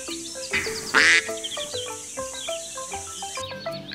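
Ducks and their ducklings quack near a garden pond fed by household greywater, a string of short nasal calls with one louder burst, mixed with other bird chatter.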